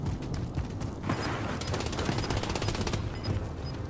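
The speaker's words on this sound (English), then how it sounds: "there's somebody like right fucking by you shooting" Rapid, close gunfire from a nearby enemy in the battle royale Warzone, Verdansk '84 map, crackling steadily with mechanical rattles through the short stretch.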